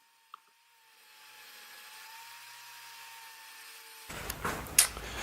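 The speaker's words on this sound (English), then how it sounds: "So here I am just cutting the wood down to size on my miter station." A piece of sapele wood is cut to size on a miter saw station. A faint motor whine builds for several seconds, then a brief, louder burst of blade cutting through the wood comes near the end.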